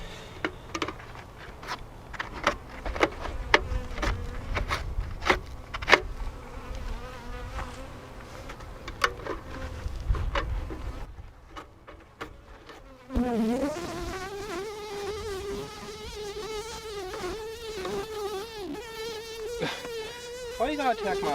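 Honey bees buzz loudly around a struggling hive and right up against the microphone, a close, wavering drone with sharp pitch swoops as individual bees pass near, rising suddenly and continuing steadily.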